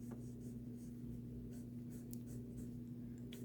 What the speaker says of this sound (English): I'm also going to take this peachy color pencil and just add a little bit of a highlight to some of the braids.